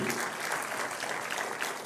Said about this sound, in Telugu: గట్టిగా చప్పట్లు కొట్టి అందరూ ఆశీర్వదించండి